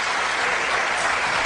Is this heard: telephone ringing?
no